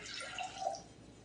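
Water pours briefly into cake mix in a mixing bowl, a faint, close liquid splash and trickle lasting about a second, with no talking.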